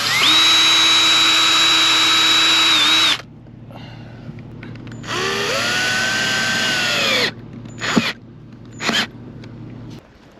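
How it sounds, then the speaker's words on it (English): A power drill driving screws for snaps into a boat window sunshade runs loud at high speed for about three seconds, then slows and whines again in a longer second burst, followed by a few short blips, with no talking. "getting ready to put the screws in for the snaps"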